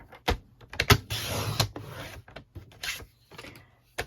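A paper trimmer blade sliding across an A4 sheet of card, several short scraping swipes and clicks at close range with brief rasping runs between quieter pauses.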